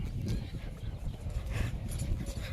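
A mare's hooves clip-clop steadily on soft soil, a continuous muffled rhythm under wind and outdoor noise.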